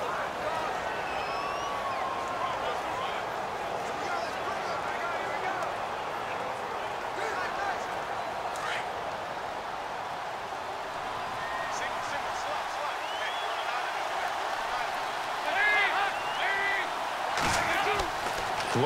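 Stadium crowd noise from the Madden NFL video game, with the Bengals playing at the Jaguars: a steady, loud roar that stays constant throughout, with a commentator talking over it.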